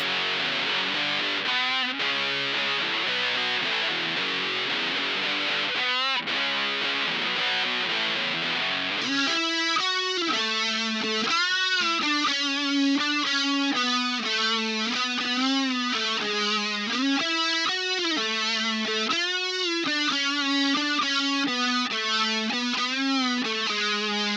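Electric guitar played through effects pedals, first a dense fuzzy wash, then distorted sustained notes and bends that ring out loudly.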